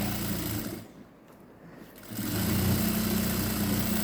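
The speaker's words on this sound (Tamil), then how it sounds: "இப்போ நான் இதை இன்னொரு தையல் இந்த பகுதியில் இன்னொரு தையல் லாங்காக போட்டுட்டு வர போகிறேன்" A sewing machine runs a long stitch through mosquito netting for a window screen: a steady, close mechanical whir that eases off briefly in the middle, then resumes louder and holds to the end.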